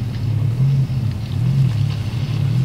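Engine of a 1969 Chevy Longbed truck in the off-road driving game SpinTires, a steady low droning rumble with slight rises in revs, loud and continuous with no speech.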